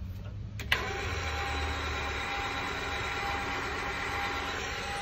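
An electric RV tongue jack motor whirs steadily as it raises the jack off the ground, a continuous mechanical drone after one brief click near the start, with no talking.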